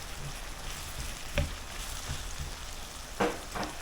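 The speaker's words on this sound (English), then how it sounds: "Gonna get these onions in here to soak up a little of this liquid." Onions hit a pan of browned sausage and beef and sizzle steadily up close, with two louder clatters of stirring partway through and no one speaking.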